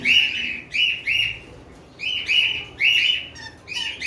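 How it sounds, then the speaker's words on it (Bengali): Pair of conure parrots calling close by: a series of loud, shrill, slightly harsh chirps in quick clusters, repeated about seven or eight times with brief gaps, over a faint background hum. "যেমন এখানে এক জোড়া কোনোর পাখি রয়েছে, এগুলো আসলে নন ডিএনএ পাখি"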